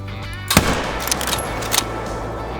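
A 7mm bolt-action rifle fires once in the hunting game Call of the Wild with a loud, close crack. A rolling echo and a couple of faint trailing impacts follow over a steady ambient hum.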